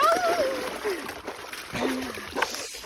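Water splashes and sloshes in a newly built home swimming pool. The splashing is light and close, with people talking and calling out over it.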